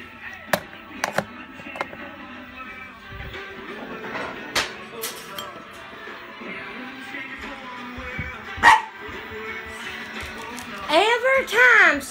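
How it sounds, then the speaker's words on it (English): A hairless dog barks in scattered bursts and ends with rising whimpering yelps, amid people talking and occasional thumps indoors. "Every time something thumps, that hairless dog barks."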